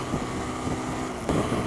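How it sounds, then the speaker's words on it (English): Strong wind buffeting a helmet-mounted GoPro on a motorcycle riding on a freeway, a steady loud broadband roar with a gust swelling near the end. "it is extremely windy right now"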